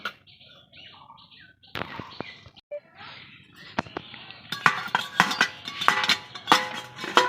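A metal lid is lifted and set over a cooking pot in a home kitchen, giving several sharp clanks and clinks that grow busier toward the end, with birds chirping faintly in the background.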